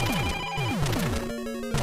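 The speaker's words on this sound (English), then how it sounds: "Oh, yeah, the phone call." Telephone ringing sound effect from the Super Mario Maker video game, a busy cluster of bright, warbling electronic ring tones sweeping up and down, loud and steady throughout the short stretch with no voices.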